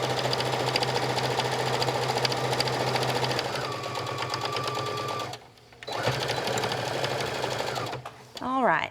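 Sewing machine stitching a pocket onto a cross-body bag, a steady close rapid mechanical whirring with a brief pause and one more short run, heard under a person talking.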